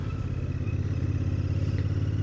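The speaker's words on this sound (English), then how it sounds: "I think I just heard a nice little pop out the exhaust on the overrun then." A Royal Enfield Bear 650 rumbles loudly up close on a UK road, its low, throbbing exhaust note pulsing evenly, with no clear separate pop standing out from the steady engine drone.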